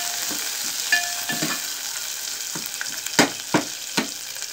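Tempering spices with dried red chillies sizzle in a pan for leafy greens dal, a steady close frying hiss broken by several sharp stirring scrapes.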